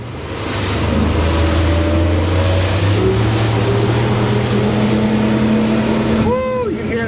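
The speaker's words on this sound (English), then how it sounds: "you can hear that Mercury hum" Mercury outboard engines on a Robalo 266 Cayman hold a loud, steady hum as the boat runs through a half-foot chop, with wind and water rushing past and a voice speaking over it near the end.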